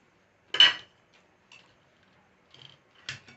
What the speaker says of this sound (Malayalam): നമുക്കൊരു സർവിങ് ബോളിലേക്ക് മാറ്റാം